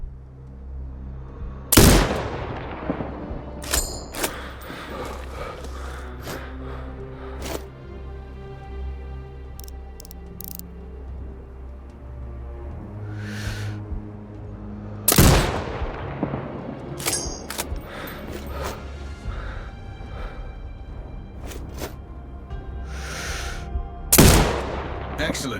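Sniper rifle shots in the video game Sniper Ghost Warrior Contracts 2: three loud, sharp cracks spaced well apart, each with a long rolling echo, over a steady low ambient game hum with scattered smaller clicks and impacts.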